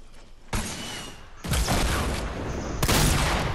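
Video game gunfire crackles in three dense bursts, each starting abruptly and sustaining as a loud wash of shots, with no talk over it.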